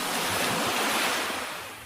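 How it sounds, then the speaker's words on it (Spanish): AI-generated ocean waves from ElevenLabs: a broad, rushing surf wash that swells and then slowly recedes, heard alone without speech. "Océano."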